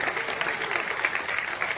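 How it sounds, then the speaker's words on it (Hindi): Steady applause from a group of children at an Independence Day program fills the whole stretch, a dense patter of many hands clapping together without pause. "जोरदार ताली बच्चों"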